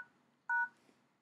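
A Droid phone keypad gives a single short dual-tone dialing beep, clear and close, over a faint quiet background.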